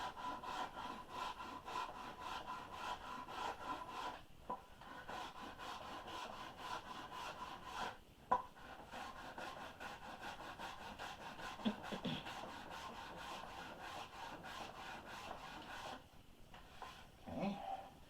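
Carving tool trimming the edge of a wooden half hull boat model, giving a continuous close, faint scraping and shaving of wood in steady repeated strokes, with a few brief pauses and small knocks.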